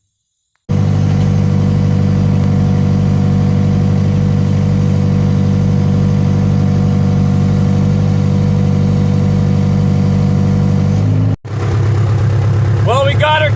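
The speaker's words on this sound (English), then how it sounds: "Let's see what we get when we hit the sawmill." A Woodland Mills HM126 sawmill runs while cutting a solid oak log, its engine a loud, steady, continuous drone that dips briefly and changes tone near the end.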